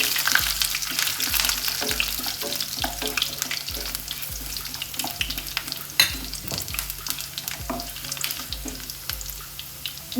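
A few cloves of garlic and two small pieces of ginger sizzle loudly in hot oil in a pan, a constant close crackle with soft regular knocks underneath and no voices.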